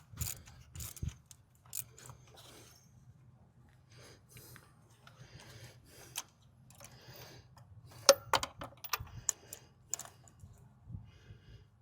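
Ratchet clicking in short bursts while spark plugs are snugged down on a Mercury Grand Marquis 4.6 V8 during a coil pack and plug swap, faint and close with scattered metallic taps.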